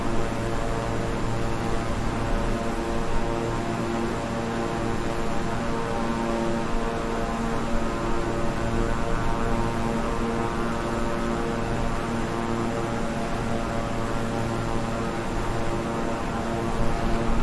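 King Air 350i twin-engine turboprop cruising on a long flight in Microsoft Flight Simulator, a steady, unbroken droning hum with layered engine tones held evenly throughout, with no talk.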